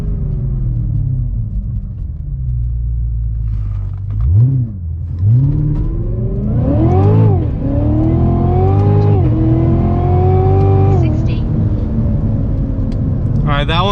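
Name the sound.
Cadillac CTS-V3 accelerating 0 to 60 in race mode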